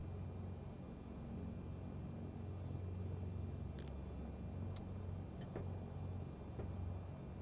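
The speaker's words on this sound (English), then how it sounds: "They nailed the plane creaking sound when you bring the plane to a stop." A flight simulator airliner rolls to a stop with a steady low engine rumble, broken by a few faint, sharp creaks from the airframe and no talk.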